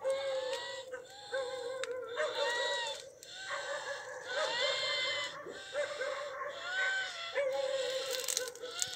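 Several dogs bark and yelp almost nonstop outdoors at night, some near and some farther off, their overlapping cries forming a dense, restless chorus.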